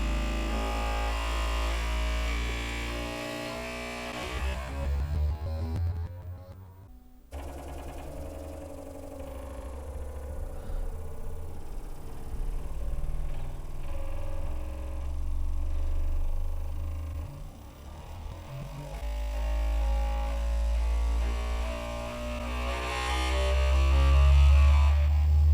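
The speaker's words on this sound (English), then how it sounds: "Okay, so it looks like it's doing input shaping now." Bambu Lab P1P 3D printer running input shaping calibration, its motors giving a loud buzzing, shifting drone with rising and falling tones, a brief cutout near seven seconds, then swelling louder toward the end.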